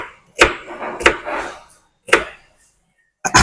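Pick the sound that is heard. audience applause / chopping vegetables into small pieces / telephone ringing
chopping vegetables into small pieces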